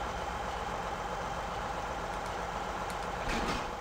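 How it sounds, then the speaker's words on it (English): A combine harvester's engine idles steadily in Farming Simulator 17, a constant mid-level drone with a slight swell near the end and no voices. "if you play on hard mode, you'll have to start the engine"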